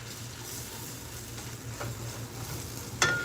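Meat frying in a pan for a pot pie gives a soft, steady sizzle over a low background hum, with one sharp click near the end.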